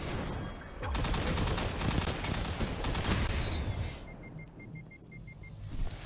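Sustained bursts of rapid gunfire in a first-person shooter video game rattle loud and dense for several seconds, then thin out to quieter scattered shots and a high electronic tone.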